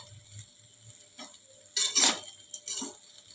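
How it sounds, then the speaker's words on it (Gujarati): Sabudana khichdi being stirred in a pan, quiet soft scraping with a couple of louder clattering bursts of the spoon against the pan near the end. "સાબુદાણાની ખીચડીને બરાબર આપણે હલાવી દઈશું"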